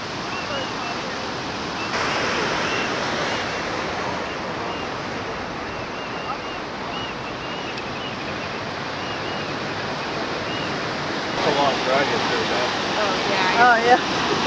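Ocean surf on the Sonoma coast at Goat Rock, a continuous broad wash of breaking waves and wind noise, with voices talking over it near the end.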